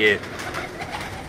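Pigeons of an old Sialkot breed coo softly in a short burst at the start, followed by a low murmur of birds and background voices.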